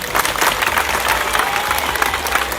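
An audience at a village concert in Odienné claps steadily in dense, continuous applause with some crowd murmur, loud and close throughout.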